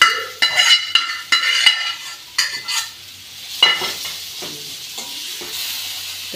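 Steamed jackfruit with a little turmeric being tipped into a pan and stirred for a spicy bhaji: repeated close scraping strokes of a spatula over a frying sizzle, uneven in rhythm, then quieter mixing with light knocks, no voices.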